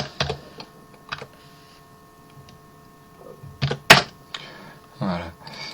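Keystrokes on a computer keyboard come as scattered clicks and a few sharp taps in a quiet room, with a brief louder clatter near the end and no voices.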